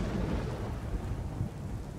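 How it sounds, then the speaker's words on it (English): Steady rain pours with low rumbling thunder in the sci-fi survival game Empyrion Galactic Survival, a dense continuous wash of rainfall and deep rolling noise filling the scene without any talk. "And it's raining."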